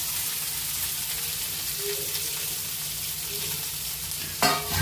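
Capsicum and sweetcorn tossed quickly in a hot pan, a steady close sizzle with faint stirring scrapes and a brief louder clatter near the end, no voices.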